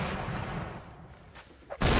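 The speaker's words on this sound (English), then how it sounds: "Oh, listen to that cannon." Cannon fire rumbles in a Mount & Blade North & South mod line battle, a heavy boom decaying at the start, then a sharp fresh blast cracking out near the end.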